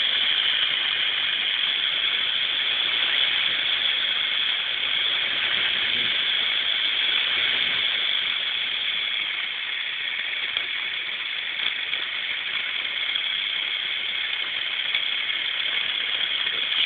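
Newman motor driven by a PWM step-up supply at 12 to 50 volts DC gives a steady, continuous high-pitched whir with an even hiss, unchanging throughout and heard alone.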